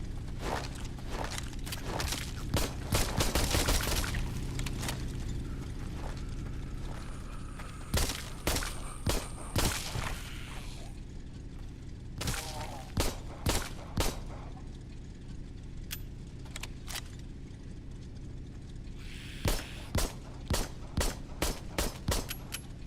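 Gunshots from guns in the VR game Arizona Sunshine, scattered single cracks and short rapid volleys spread across the stretch with quieter gaps between them.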